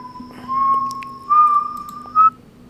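A person whistles a clear, sustained tune at night in three phrases with brief pauses, the middle and final notes rising louder, close and alone with no talk.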